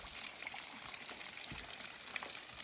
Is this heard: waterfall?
yes